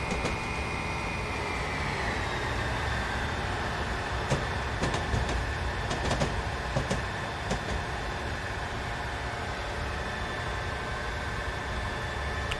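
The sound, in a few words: London Underground train running, Train Simulator video game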